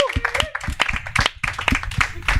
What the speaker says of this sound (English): A round of applause for that, because my God, it took a while.